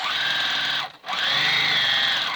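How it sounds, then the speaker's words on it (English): A sewing machine runs steadily while trimming around the edge of an infant burp cloth pad, a continuous whirring hum that briefly stops once midway, then resumes at the same close, loud pace. "I'm just using my presser foot as my guide to trim around the edge."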